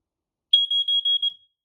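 A new smoke alarm from a collection goes off with a shrill, steady electronic tone that starts abruptly and then pulses in four or five short beeps over about a second, close and clear with no talk.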